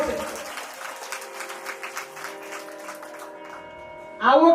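An audience at a Ram katha in Palsana claps together in a dense, steady burst lasting several seconds, then the applause fades and a voice begins speaking.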